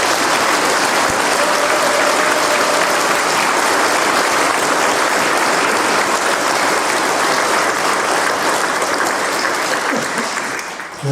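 Loud, sustained applause from a church congregation for their priest at the Easter Vigil Mass, a dense wash of clapping lasting the whole stretch before thinning slightly at the end.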